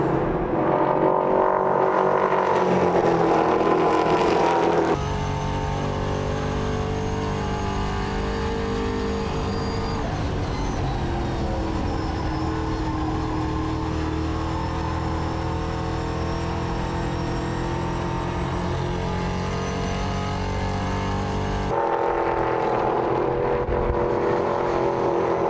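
Race cars circling the track at New Hampshire Motor Speedway during practice for the season's first ACT race, a loud continuous engine roar that swells as cars pass, with sustained revving throughout and no talking.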